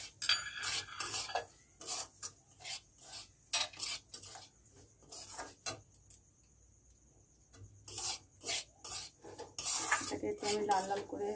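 Semolina tipped into a pan and stirred while it fries, with repeated scraping and rasping strokes of a utensil against the metal, fairly close, pausing briefly midway before the scraping resumes.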